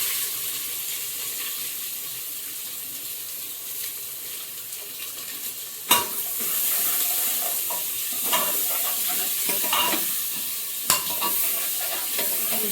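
Cumin and onion frying in a pan for a potato and vadi curry, a steady close sizzle with occasional sharp stirring clatters and scrapes.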